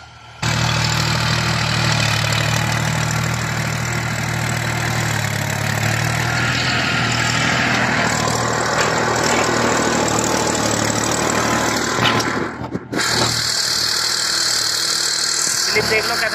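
A New Holland 3032 35 hp tractor engine runs steadily and loudly at close range, a constant low diesel drone with a brief dip in its note near the end, with no talking over it.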